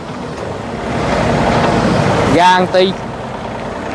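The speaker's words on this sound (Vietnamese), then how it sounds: "Cho anh em nghe tiếng động cơ đi." A 2006 Hitachi ZX30U-2 mini excavator's engine runs at a steady, rough diesel rumble, swelling slightly louder, while someone briefly speaks over it near the end.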